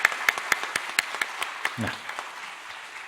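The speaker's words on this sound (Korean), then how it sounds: "박수로 격려하겠습니다." Scattered clapping from a church congregation during a Sunday service, a sparse run of distinct hand claps that thins out, fairly quiet, with a brief spoken word in the middle.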